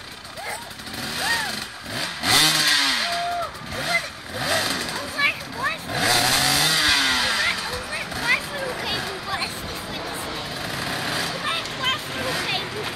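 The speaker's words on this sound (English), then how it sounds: "his throttle cable's broken. So he's trying to rev it with his teeth." A motorcycle engine at a Wildwood 2016 event, its throttle worked by a rider biting the broken throttle cable, revs in loud repeated bursts with rising and falling pitch, mixed with crowd noise and people talking.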